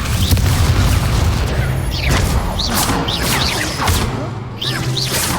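A string of fiery whooshes, booms and crashing impacts from Incendio and Levioso spells cast in Hogwarts Legacy, loud and layered over a constant combat rumble, with a voice speaking over the action.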